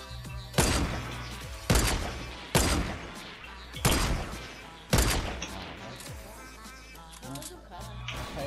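Sniper and rifle gunfire in the Fortnite Battle Royale video game: five sharp, loud shots about a second apart, each trailing off, with players' voices talking underneath.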